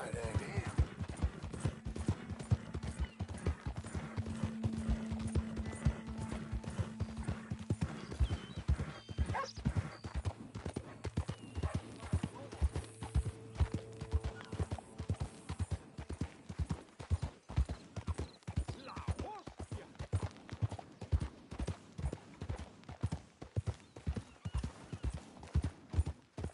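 A horse walks with a steady, close clip-clop of hooves in Red Dead Redemption 2, the rhythmic beats continuing throughout alongside a brief whinny-like tone and occasional calm speech.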